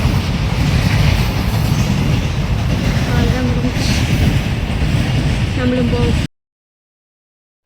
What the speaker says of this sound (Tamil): இது ஏதோ கூட்ஸ் ட்ரெயின்.